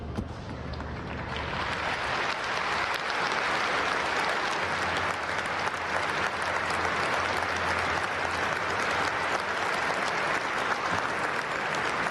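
About 20,000 fans at the Friuli stadium in Udine give a long, dense round of applause that holds steady and loud from start to finish, with no talk over it.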